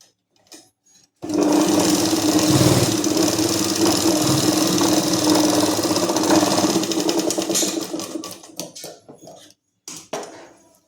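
A sewing machine runs continuously for several seconds, double-stitching a salwar, a steady loud mechanical whir that stops, followed by a few short handling sounds.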